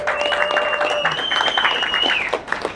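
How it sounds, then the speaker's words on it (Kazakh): Guests at a thirtieth birthday party applauding, a close burst of dense clapping mixed with cheering and chatter, fading near the end. "Бір-бірімізге бірінші бір қол шапалақ ұрып қояйық, максимально."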